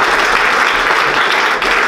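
Loud, dense audience applause from a large crowd at a lecture, an unbroken roar of clapping close and steady across the short stretch.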